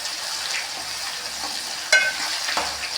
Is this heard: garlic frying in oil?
yes